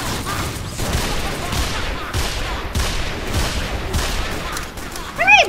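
A heavy machine gun in Team Fortress pours out a long run of rapid shots, loud and steady, its bursts overlapping in a dense rattle that ends in a sharper ringing impact.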